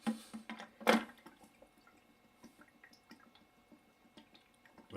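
Water dripping and trickling from the tank of an aromatherapy steam humidifier into its base, faint, close, irregular drips and gurgles.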